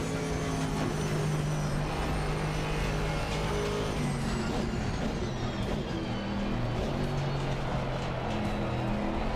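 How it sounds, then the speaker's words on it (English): A GT3 race car engine in a driving simulator game, droning steadily and loud throughout with shifting engine tones and no pauses. "this car sounds super nice. The GT3 cars are always amazing."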